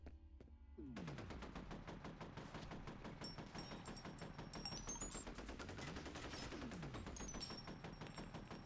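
An assault rifle fires in the video game F.E.A.R., a rapid, steady stream of automatic shots running nearly nonstop, fairly quiet overall, with a high electronic whine rising and falling above it.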